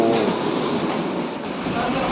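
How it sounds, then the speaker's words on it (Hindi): A local train in motion near Mumbai heard from inside the carriage, a loud continuous rumble and rattle of wheels on track with broadband noise throughout. "फाइनली लोकल ट्रेन में बैठ गए हम।"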